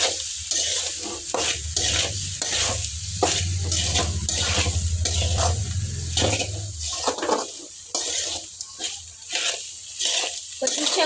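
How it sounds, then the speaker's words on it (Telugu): Bitter gourd fry being stirred in a pan on a low flame with chilli powder and salt: repeated scraping and stirring strokes with a soft sizzle, close and fairly loud, over a low steady hum during the first part. "సిమ్లో పెట్టి బాగా కారం ఉప్పు కాకరకాయ పట్టేలాగైతే కలిపేసుకోవాలి"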